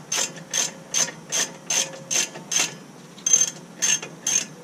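A ratchet loosens lug nuts on a GMC Acadia wheel, giving about ten evenly spaced bursts of sharp metallic clicking, close and clear with no voices.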